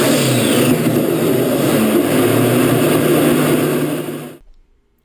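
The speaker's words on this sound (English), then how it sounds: "What happens when you rev an engine harder and harder relentlessly?" A car engine revving hard with a loud, steady high-RPM roar held for several seconds before cutting off abruptly into silence.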